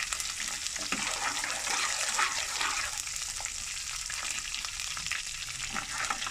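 Ginger sautéing in a pan while preparing a keema and kachnar dish, giving a steady, close, dense sizzle that holds evenly for the whole stretch with no talking.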